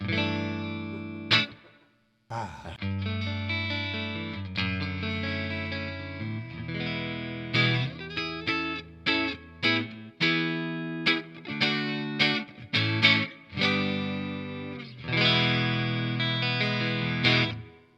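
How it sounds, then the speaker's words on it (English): Eastman Fullertone electric guitar played clean through the neck pickup, chords and single notes ringing out with a light reverb tail, steady and close. "Let's put a little reverb on there."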